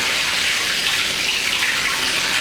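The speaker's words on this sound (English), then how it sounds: "let me just rinse my hands a minute" Water running steadily from a kitchen tap as hands are rinsed under it, a loud, close and continuous splashing rush with no voices.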